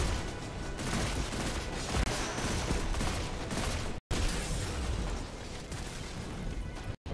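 Dense, continuous gunfire from Neomuna weapons in Destiny 2, a steady loud barrage of rapid shots and bursts with two very brief dropouts.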